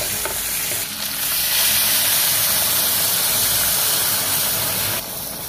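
Boiling water poured into a hot pot of stir-fried pork ribs with oyster sauce sets off a loud, continuous steaming hiss and sizzle lasting several seconds, with no talking.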